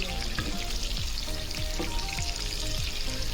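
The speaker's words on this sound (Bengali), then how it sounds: "আলু ভাজা চলছে" Potato pieces fry in a pan with a loud, continuous close sizzle that stays dense and even throughout, with faint squeaky sweeps scattered across it.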